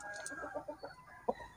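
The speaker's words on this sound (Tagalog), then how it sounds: "Ito yung ating hen." A Brahma hen clucking close by, a series of short soft clucks ending in a couple of sharper, louder calls.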